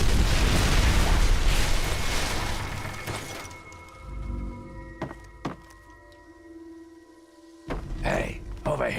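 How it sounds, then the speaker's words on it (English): An explosion seals a hole in Fallout, opening with a loud rumbling crash that fades into quieter clanks and short thuds, then another burst of rumble near the end. "It looks like an explosion should do the trick."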